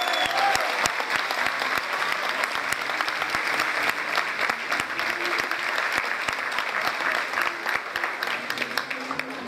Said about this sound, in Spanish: para hacer más fuertes los aplausos, el 3-0 que nos regalaron hoy vale un aplauso más fuerte